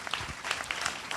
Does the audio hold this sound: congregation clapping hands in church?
yes